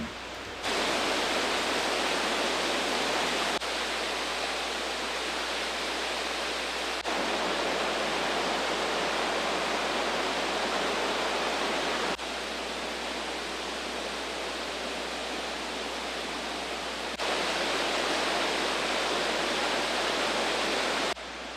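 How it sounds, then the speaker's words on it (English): Buttermilk Falls swollen by heavy rain, water spilling over countless small rock ledges in a steady, dense roar that holds loud and unbroken throughout, with no voices. "heavy rains refilled Buttermilk Falls with a surplus of water spilling over countless little ledges"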